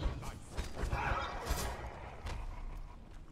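A horse neighs in the survival game Conan Exiles: Isle of Siptah, heard close over busy game noise and a low rumbling background.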